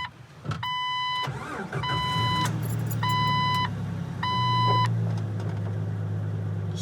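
A Jeep Wrangler Rubicon's engine starts with a burst of cranking, then idles low and steady, with chime-like electronic beeps repeating over the engine.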